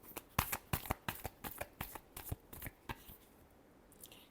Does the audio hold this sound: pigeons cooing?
no